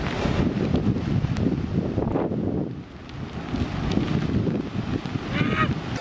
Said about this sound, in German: Das ist so ekelhaft, wie der Wind hier durchzieht.